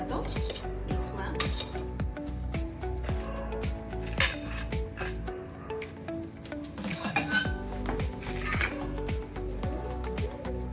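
Dabeli masala being scraped from a pan into a dish in a home kitchen, with steady clinks and scrapes of a metal spoon against cookware, close and continuous over a low hum.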